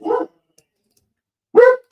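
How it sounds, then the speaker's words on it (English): A dog gives two loud, close barks separated by a pause of over a second, with nothing else sounding in between. "Dogs are barking."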